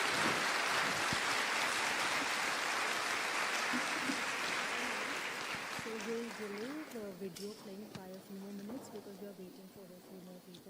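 A large audience at an outdoor gathering in Azerbaijan applauding, a broad wash of many hands clapping that swells at first and then thins out, giving way to a voice talking over the fading claps.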